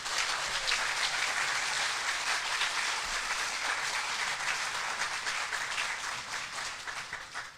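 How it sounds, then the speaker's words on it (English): Audience applause fills a service dog class graduation ceremony, a dense, steady roar of many hands clapping close by that holds strong for several seconds before easing off slightly at the end. "we need to give him a big old round of applause"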